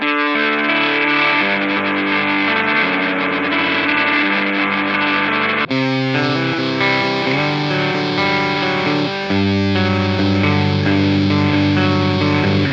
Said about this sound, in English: You wanted to make it a little bit gritty sounding, add a bit of a lo-fi effect to it as well.